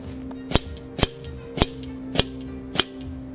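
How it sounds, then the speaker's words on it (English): A Benjamin Trail NP .22 air rifle fires pellets at paper targets: five sharp, close cracks at an even pace, about half a second apart, over a low steady hum. "I'll be shooting at these nice and cheap gammo targets"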